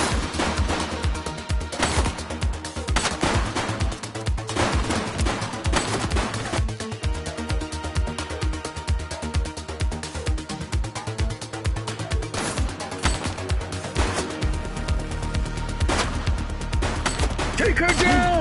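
Gunfire in The Precinct crackles as repeated rapid bursts and scattered shots over a continuous low rumble of game sound, loud and sustained throughout.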